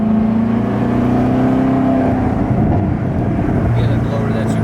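A supercharged Chevrolet Corvette C7 ZR1 engine revs loudly and close by with a straight intake, its droning exhaust note rising and falling, with crackling pops and supercharger whine, while people talk over it.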